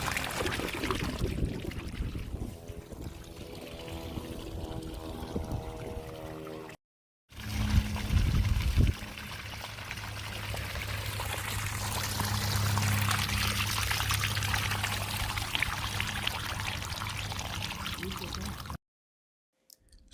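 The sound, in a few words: water discharging through drainage pipe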